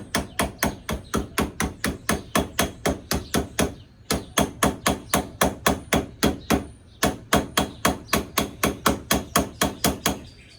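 Rapid, rhythmic metallic knocks, a 1/2-inch ratchet repeatedly striking a metal part at close range during fuel injector work on a 1990 Ford F150 4.9L, in three quick bursts with brief pauses between.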